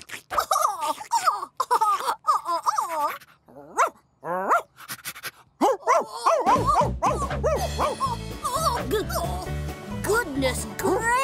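A cartoon dog barks and yips repeatedly in a children's phonics cartoon, loud and close, mixed with animated voices and bright background music.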